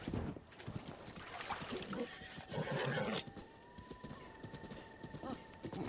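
Hoofbeats of a horse galloping in Zelda Breath of the Wild, a steady quiet clatter with a brief whinny and a faint sustained tone in the game background.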